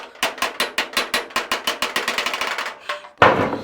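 Rapid, evenly spaced hammer taps ring on car body sheet metal close by, working out a dent hammer-off-dolly, around twenty strikes quickening toward the end, followed by a brief scraping sound.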